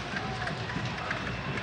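Dense stadium crowd noise at a football match between Omonia and its opponent, a broad steady roar with scattered clapping as goalkeeper Antonis Georgallides is applauded after clearing the ball, with a commentator's voice faintly present.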